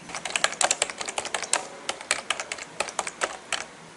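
Quick bursts of keystrokes on a computer keyboard while entering text into PowerPoint 2019, an uneven clatter of close, crisp taps with short pauses, no voice.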